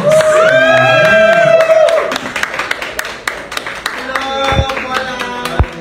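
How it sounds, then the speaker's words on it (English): A pageant crowd cheers and claps for a teen contestant at a beauty event, with a sustained high shout or whoop at first, then scattered clapping, loud thumps and mixed crowd noise. "Let's give her a round of applause."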